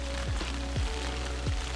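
Steady rain falls on an outdoor fishing spot, a constant broadband patter and hiss running throughout with a few brief higher chirps over it.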